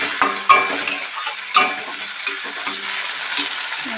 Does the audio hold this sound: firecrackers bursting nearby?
no